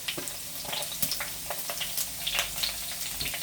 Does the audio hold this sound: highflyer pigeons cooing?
no